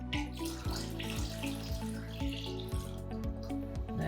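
Tap water runs steadily into a pot for mulled wine, a loud close gushing stream with a rhythmic pulsing splash as the vessel fills, no talking over it.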